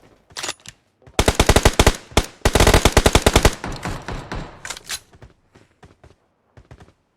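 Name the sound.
gunfire in the video game PUBG Mobile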